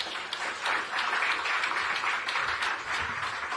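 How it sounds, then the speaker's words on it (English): Audience applause following a closing speech at a Kenyan political event with President Ruto, a steady dense crowd clapping that holds fairly loud throughout with slight swells, no voices over it. "A warm round of applause for him."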